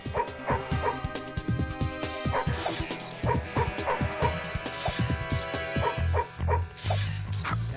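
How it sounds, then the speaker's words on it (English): A dog barks repeatedly in the Madagascar Escape 2 Africa video game, steady close barks and yips over a continuous game music bed. "A dog is here. I can hear the betrayal in its bark."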